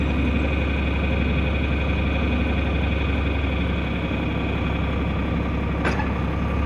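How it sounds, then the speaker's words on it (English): A tractor in low gear runs steadily while dragging a 3-point disc mower over, its deep engine rumble continuous and close, with a short sharp click near the end. "put the tractor in low gear, turn the wheels that way, bring the rear end this way, and it'll drag over"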